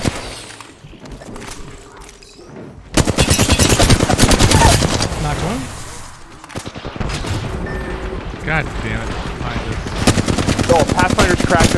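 Rapid automatic gunfire and bursts of shots ring out in a first-person shooter game, with a grenade blast among the firefight; the shooting is loud and dense, with a brief quieter stretch early on and repeated volleys throughout.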